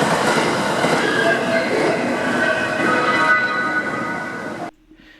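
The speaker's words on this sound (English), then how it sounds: "I caught this Ishikawa Railway 521 series electric multiple unit heading toward Kanazawa at the railway crossing near the facility" An Ishikawa Railway 521 series electric multiple unit rolls past a railway crossing near a maintenance facility, its loud rumble and rail noise sustained for several seconds before cutting off abruptly.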